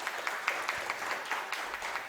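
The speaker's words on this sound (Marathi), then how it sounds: "या दोघांसाठी एकदा टाळ्या वाजवूया आपण." Audience clapping together at a live music programme, a steady patter of many hands sustained throughout, moderately distant with no voices.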